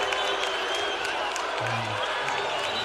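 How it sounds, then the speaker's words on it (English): Lake Highlands high school basketball crowd reacting to a foul call, a loud sustained roar of voices and scattered clapping filling the gym, with a few sharper shouts. "You can hear the Lake Highlands crowd not happy with that."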